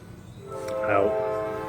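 A train passes nearby, its horn blaring in a swelling sustained blast over the rumble of the cars, heard briefly and alone.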